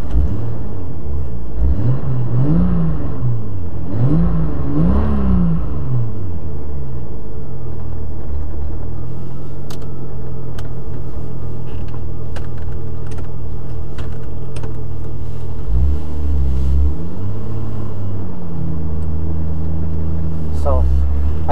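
A modified 600 hp Lexus GS300 with a 2JZ-GTE engine and six-speed gearbox pulls away on the road, its engine rising and falling through revs as a loud, close rumble from inside the car, with a voice talking over it.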